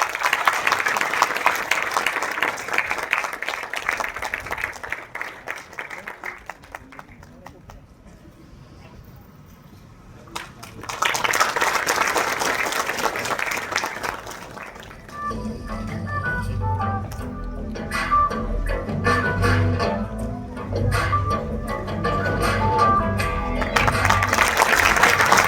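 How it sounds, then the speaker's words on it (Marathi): An audience at a music award ceremony breaks into loud, sustained applause that fades, then swells again and mixes with music and crowd noise. "जोरदार टाळ्या झाल्या पाहिजे"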